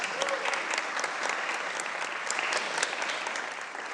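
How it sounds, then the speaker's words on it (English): Sustained applause fills the Illinois House chamber as legislators honor a bill sponsor, a steady dense wash of clapping hands at moderate loudness with no break for the full stretch. "I'd ask that this body give a warm applause to a champion on this issue"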